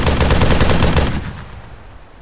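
ArmA 3 Wasteland gunfire: a rapid, loud automatic burst rattles for about a second, then cuts off and leaves a fading echo tail.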